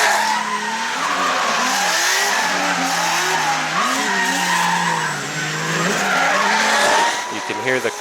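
A drift car at a drift event on a high-grip track roars loudly and close, its engine rising and falling through clutch kicks while the tires squeal and skid continuously, with a brief rattle at the end.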